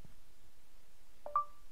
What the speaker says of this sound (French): Vous posez votre doigt, vous entendez un bip.